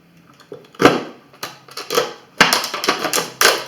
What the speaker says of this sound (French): faites un avant-trou comme ça, puis découpez au ciseau